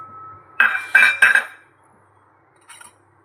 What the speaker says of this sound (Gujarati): લસણ છે તેને ખાયણીમાં ખાંડી લઈશું